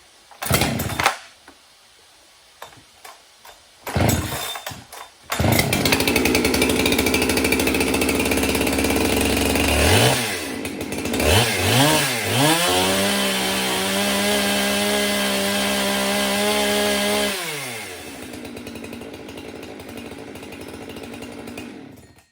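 Rebuilt Husqvarna 390XP chainsaw with a new short block, decompression valve used: a few short pull-start bursts, then the engine catches and roars, revving up and down before settling into a loud steady idle-to-high run, close by.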